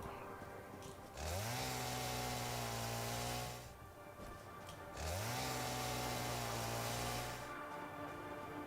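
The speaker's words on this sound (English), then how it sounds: "Chainsaw. Sweet." A chainsaw in the video game Satisfactory revs up twice, each time holding a loud, steady buzzing drone for a few seconds before dropping back to a low idle rumble.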